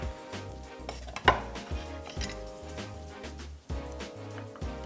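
A quick stir of a dipping sauce of soy sauce, vinegar and Korean red pepper flakes, with rapid repeated clinks of a utensil against a small dish, fairly quiet and close.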